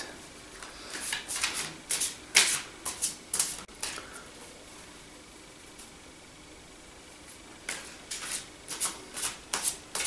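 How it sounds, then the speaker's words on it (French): Tarot cards are shuffled by hand in short bursts of crisp riffling and flicking, a cluster of quick snaps, a quiet pause, then another run of shuffles, close and fairly soft. "nous allons brasser les cartes."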